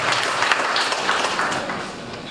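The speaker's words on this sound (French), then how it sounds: "Des applaudissements pour Mbayang Loum." Brief applause rises from an audience welcoming a coach at a free training event, a short wash of clapping that tapers off over a couple of seconds.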